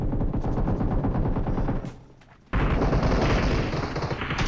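Rapid automatic gunfire rattles in a PUBG Mobile solo-versus-squad match, loud and continuous. It breaks off briefly for a quieter moment, then a fresh stream of shots resumes.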